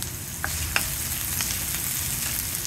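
Onion and garlic sizzle steadily in hot olive oil in a pan for Filipino ginisang bagoong alamang, with a few clicks and scrapes of stirring breaking through the close, constant frying.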